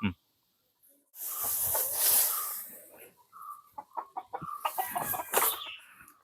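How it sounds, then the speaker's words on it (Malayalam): A fancy frizzle-feathered Cochin chicken, clucking and calling in a short burst of rapid squawks followed by quieter clucks, close by with someone talking over it. "ഇതിപ്പോ ഫാൻസി കോഴിയാണ് ഇത് കൊച്ചിൻ ഫാൻഡോ എന്ന് പറയുന്ന"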